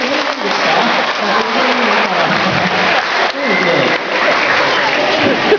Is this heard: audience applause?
yes